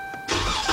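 A 2012 Dodge Durango SXT with the 3.6 engine and a cylinder 3 misfire cranks briefly and then catches, the engine firing up loud and close into a rough idle.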